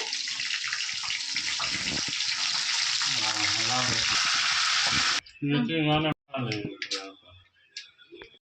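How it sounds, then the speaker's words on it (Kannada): Oil tempering with mustard seeds, cumin, a dried red chilli and curry leaves in a home kitchen, a loud hissing sizzle with popping crackles that cuts off suddenly, with someone talking over it. "ಎಣ್ಣೆ ಮತ್ತೆ ಇಲ್ಲಿ ಸಾಸಿವೆ ಜೀರಿಗೆ ಒಂದೇ ಒಂದು ಒಣಗಿದ ಮೆಣಸಿನ್ಕಾಯಿ ಹಾಕಿ ಒಗ್ಗರಣೆನ ಮಾಡ್ಕೊಳ್ಬೇಕು"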